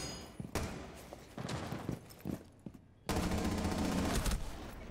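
Gunfire in a gunfight in a shooter video game: bursts of rapid automatic shots, then a short lull, then a sustained loud volley, close and dense, with no voices.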